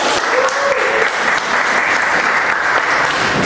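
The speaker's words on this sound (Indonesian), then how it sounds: "Tepuk tangan untuk kita." A class of students applauds at the end of a school lesson, a steady dense wash of clapping that holds from start to finish with no talk over it.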